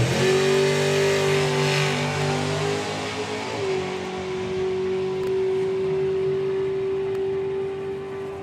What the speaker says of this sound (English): 165 miles an hour there for Graham Marsh in the back seat of the two-seater Dragster driven by Paul Brown.